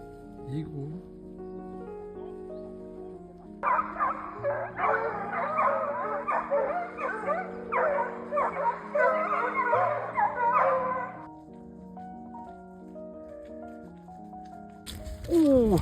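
A pack of hunting dogs bays and yelps in a burst of overlapping barks while chasing a hare in open countryside, heard at moderate distance, with quieter stretches of a voice before and after.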